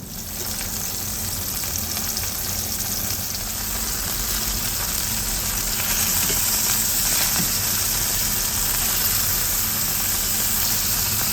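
Food sizzles steadily in a pan while being lightly fried on both sides for a seafood tofu stew, a continuous close hiss with no talking over it.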